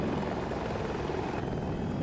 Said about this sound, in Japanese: ちょっと久々のヘリでまだ操作おぼつかねえんだ